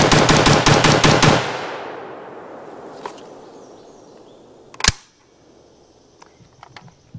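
An HK MR556A4 piston AR-15 rifle fires a rapid string of about eight loud, close shots at a range, followed by a long fading echo, a later single crack and faint clicks.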